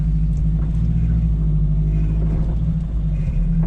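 Mitsubishi Sigma Lancer, fitted with new engine and gearbox mounts, driving on a test drive, heard from inside the cabin as a steady, loud, low engine drone and road rumble with no pauses.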